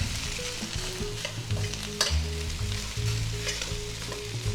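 Wonton fried rice stir-fries in a hot pan with a steady loud sizzle, while a utensil scrapes and clacks against the metal at irregular moments.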